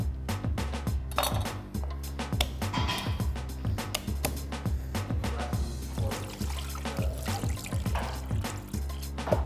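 Water is poured into a braise in a pot, trickling and splashing under steady rhythmic background music, with light clinks of cookware.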